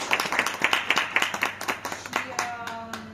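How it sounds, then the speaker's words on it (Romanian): Audience at an art exhibition opening clapping, distinct hand claps in a quick rhythm, fairly close, with a voice speaking over the final second. "O aplaudăm oricum."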